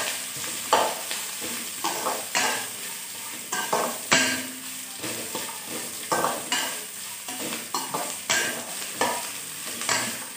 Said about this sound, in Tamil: நல்லா பூண்டு இஞ்சி எல்லாம் குக் ஆகிற வரைக்கும் அதை ஃப்ரை பண்ணுங்கள்.